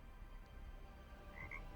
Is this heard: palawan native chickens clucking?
no